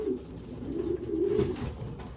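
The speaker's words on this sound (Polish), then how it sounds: "Tutaj mamy gołąbka od Adama Sady, prosto z Niemiec" A large, powerful young racing pigeon from Germany coos in low, continuous rolling phrases, close and fairly loud, with no talk over it.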